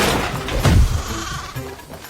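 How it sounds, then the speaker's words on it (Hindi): A goat in a village lets out one short, loud bleat near the middle, with no talking around it. "तभी एक बकरी भागती हुई आई और गबरू से टकरा गई।"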